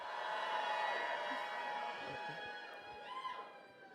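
A crowd at a conference afternoon session cheers for a group photo, a moderate sustained roar that fades gradually toward the end.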